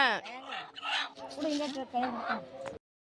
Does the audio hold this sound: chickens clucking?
yes